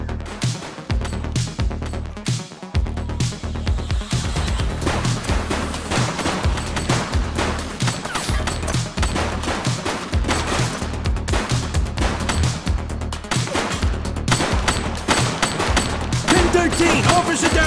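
Sustained gunfire in a shootout from the video game The Precinct: rapid, dense bursts of shots rattling continuously, loud and close, with heavy low thumps throughout.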